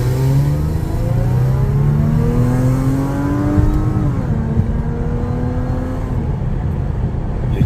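An Audi A6 3.0T with a 034Motorsport crank pulley accelerating on the road, its engine drone rising steadily through the gears with a brief dip at a shift, heard loud and continuous from inside the car.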